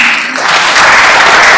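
A church audience applauds, a loud, dense wash of clapping that swells and carries on without pause.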